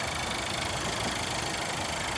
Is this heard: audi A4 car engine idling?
yes